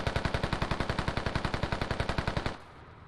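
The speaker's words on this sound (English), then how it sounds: "there's some trading of gunshots" Rapid automatic gunfire in a Squad Competitive Circuit match on the Kokan map, a steady stream of about twenty sharp shots fired close and loud, then cutting off to quiet near the end.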